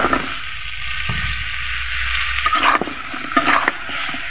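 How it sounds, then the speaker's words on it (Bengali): Ridge gourd being stirred and fried in spices in a pan for a carp fish curry, with a steady sizzle under intermittent stirring scrapes that grow louder toward the end. "মশলার মধ্যে ধুন্দলটাকে এভাবে 2 মিনিট নেড়ে চেড়ে কষিয়ে নিতে হবে।"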